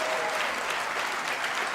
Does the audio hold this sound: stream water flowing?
no